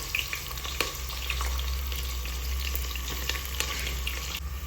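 Onion frying in a spiced masala of ginger and garlic, giving a steady, close sizzle that holds evenly throughout with faint crackles and no voices.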